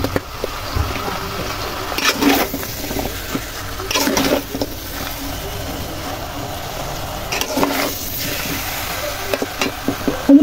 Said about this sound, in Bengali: হলুদটা দিয়ে ভালো করে নাড়বো